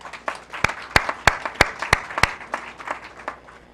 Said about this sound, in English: I think the first round of applause to the graduates of the day